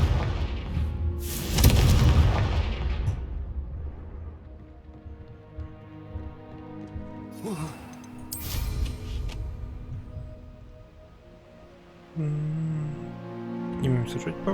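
A Confringo explosive spell blast in the video game Hogwarts Legacy, heard as a loud booming burst followed by further heavy impacts and rumbling, with speech around them.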